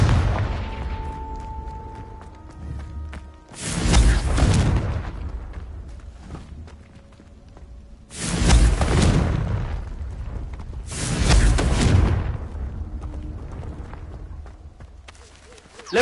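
Three loud, booming blasts from the Confringo explosive spell in Hogwarts Legacy are spaced several seconds apart, each a sudden burst that decays slowly, with quieter ambient gameplay sounds between them.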